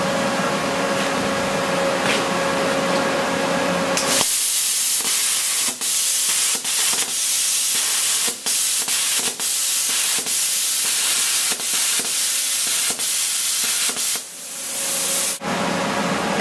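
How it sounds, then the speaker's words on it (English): A pilot arc plasma cutter slices through expanded metal mesh sheet, a loud continuous harsh hiss broken by brief dips and crackles as the torch crosses the mesh junctions, close up with no talking. "Here's a demonstration on how well the pilot arc works on expanded mesh sheet."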